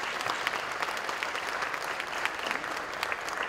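A room of people applauds award winners at a recognition ceremony, steady dense clapping throughout, moderately loud, with no voices over it.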